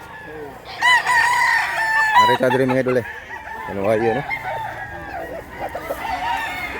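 Roosters brought by sellers crow repeatedly at a Filipino gamefowl market, the calls loud and overlapping, mixed with clucking, while someone talks nearby.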